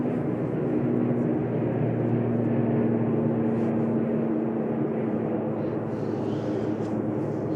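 An airliner departing Manchester Airport for Guernsey gives a steady, moderately distant engine drone with a constant low hum, brief faint voices appearing near the end.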